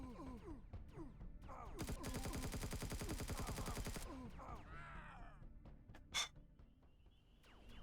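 Turret gunfire in the space survival game Empyrion Reforged Eden at an abandoned reactor: a dense, loud two-second burst of rapid shots, preceded and followed by scattered impacts and whooshing effects, with a sharp hiss near the end.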